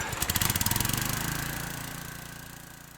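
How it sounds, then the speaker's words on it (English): A small boat engine in the video game My Friendly Neighborhood sputters with a rapid, rhythmic lawnmower-like putter, loud at first and steadily fading as it runs on. "That sounded like a lawnmower."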